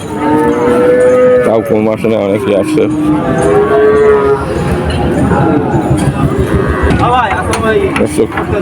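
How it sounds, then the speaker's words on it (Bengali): Several cows moo loudly and repeatedly over a busy outdoor crowd at Chuknagar cattle market, Khulna, with people talking nearby throughout. "এখানে অনেক গরু দেখা যায়"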